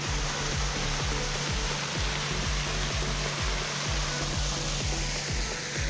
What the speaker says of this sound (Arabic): شلالات صغار.